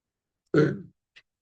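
One short, rough throat-clearing cough stands alone in silence, followed by a tiny faint click a moment later.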